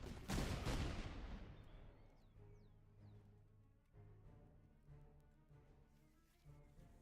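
A single massed musket volley bursts loudly in a war video game set among Prussian troops, a dense crackling blast that rolls off into a long fading echo, followed by faint scattered battlefield noise.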